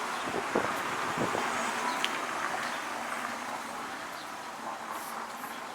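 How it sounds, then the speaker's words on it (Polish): A steady roar of passing traffic in Gibraltar fills the air, a continuous wash of nearby vehicles with faint wind noise. "gdzieś jestem, gdzie jeżdżą samochody"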